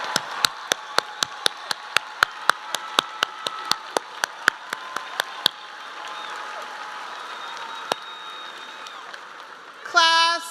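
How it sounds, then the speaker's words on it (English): Sharp, evenly spaced claps ring out close by in a graduation pavilion for a graduating class of 2023, then thin to a few scattered claps over a faint crowd hush. "I invite everyone in this pavilion at this time to join me in applause in honoring this graduating class of"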